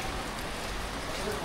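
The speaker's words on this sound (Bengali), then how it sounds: "বৃষ্টি চলে আসছে।" Steady rain falls at the Chocolate Hills in Bohol, making an even, dense hiss that continues without a break for the whole moment.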